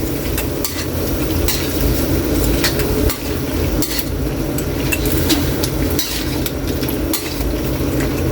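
Ginataang santol cooking in a pan gets stirred over a steady loud sizzle, with a utensil scraping and clinking against the pan at an irregular pace, up close and without talk.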